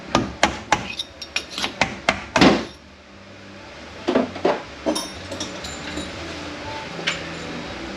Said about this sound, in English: you can get a punch and punch your pump out